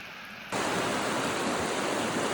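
Hot water gushes steadily from a portable Joolca shower heater drawing on river water outdoors, a sudden loud, even hiss of spray that starts abruptly and continues unbroken.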